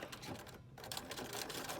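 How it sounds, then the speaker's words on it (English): Sewing machine back tacking while stitching a fabric mask, a quiet rapid mechanical whirring and clatter with one short pause before it runs on. "I'm going to make my sewing machine go backwards a few stitches."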